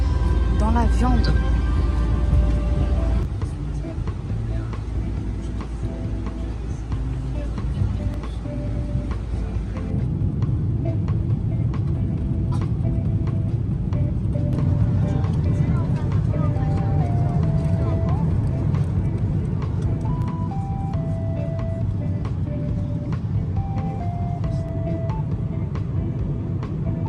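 A constant low engine drone of an airliner cabin in flight, steady throughout, with a voice talking over it.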